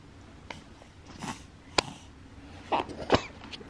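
A baby girl with a cold sneezes in a quiet room, a sharp short burst standing out among faint sniffles and soft rustling.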